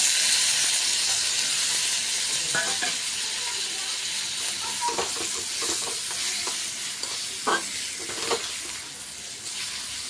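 Chopped tomato and cumin powder stirred in a frying pan with chilli powder, giving a steady sizzle and hiss with intermittent scraping stir strokes throughout, no voices.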